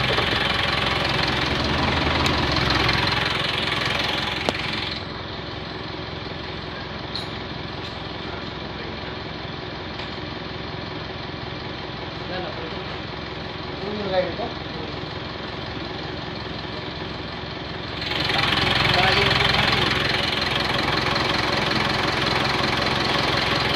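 A car engine, just repaired after a white-smoke fault, runs at a steady smooth idle, a low even hum with a louder revving stretch at the start and end, and a voice speaks briefly.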